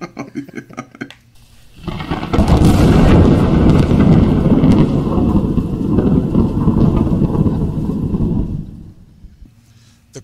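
Thunder sound effect for a lightning strike, a heavy rolling rumble that bursts in after a faint lead-in, holds loud for several seconds, then fades away.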